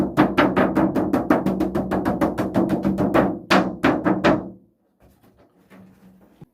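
Rapid hollow tapping on a light rim, a quick run of sharp clicks that speeds up, then stops, leaving faint rustling.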